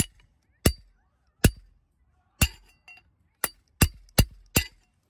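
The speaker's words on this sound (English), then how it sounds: "Get a chisel or a really solid screwdriver." A chisel or sturdy screwdriver struck repeatedly to knock a stuck part free, giving about eight sharp metallic clinks in an uneven rhythm, close and clear with nothing else heard.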